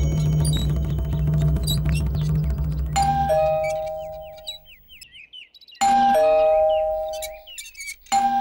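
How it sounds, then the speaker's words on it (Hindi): A doorbell chimes with a melodic ding-dong, then rings again a few seconds later; birds chirp faintly amid background noise early on. "घंटी सुनाई नहीं दे रही है क्या?"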